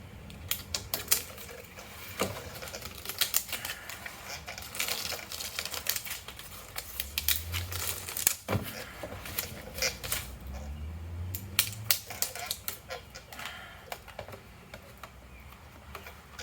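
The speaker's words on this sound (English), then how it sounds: "we can just peel off this backing paper." Backing paper peeled off foam sealing tape during weatherproofing of a crawler hauler, giving close, continuous crackly ripping with scattered sharp ticks and a few low thumps.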